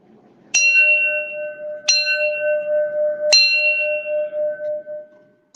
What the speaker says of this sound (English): a nearby church bell was tolling a funeral bell.